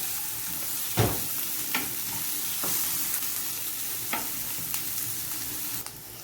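Onions sizzle in a pan with ginger and garlic added early, a steady close frying hiss broken by occasional clicks and scrapes of stirring.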